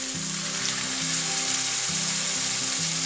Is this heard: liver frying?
yes